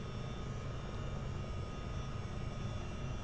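Chinook CH-47D twin-rotor helicopter engines running steadily in Microsoft Flight Simulator 2024, a continuous dense low rumble with a faint high whine, loud and unbroken throughout with no voices.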